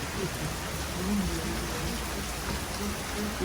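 Steady rain falls on a Florida beach day, a dense, even hiss of drops on surfaces that stays constant throughout, moderately loud with faint voices beneath.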